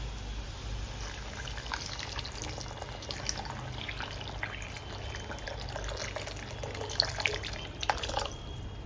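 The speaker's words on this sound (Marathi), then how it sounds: "आपण आता याच्यामध्ये गरम पाणी टाकूया." Hot water poured into a pot of fish curry base with onions, a soft steady trickling splash with a few louder drips and gurgles toward the end.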